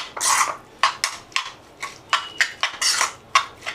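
A metal spoon scrapes and clinks against a pan in quick, repeated strokes, close and crisp, as brinjal bharta is stirred together.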